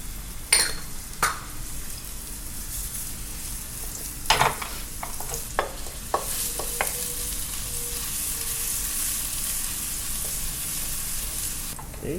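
Garlic and ginger crackle and sizzle in hot oil in a wok, with a few sharp metal clanks early on and a steady frying hiss throughout, close up with no voices.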